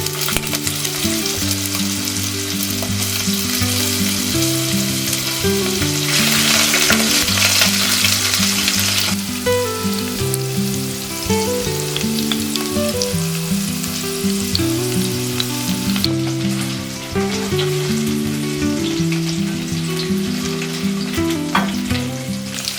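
Potatoes fry in hot oil in a pan with bay leaf for a Bengali radish ghonto, a continuous loud sizzle with occasional stirring, steady and close throughout.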